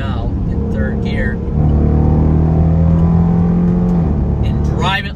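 A 5,400-pound Dodge Durango R/T pushed hard into a corner in third gear, its engine holding a loud, steady droning note that swells and sustains, with a brief voice near the start and end.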